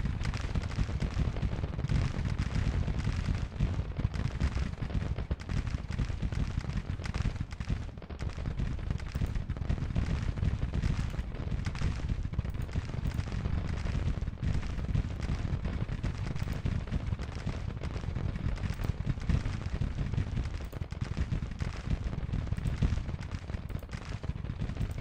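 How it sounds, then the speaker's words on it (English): Continuous distant battle din of massed musket fire and artillery in an American Civil War strategy game, a dense crackling roar with scattered booms holding steady throughout. "shooting it out here"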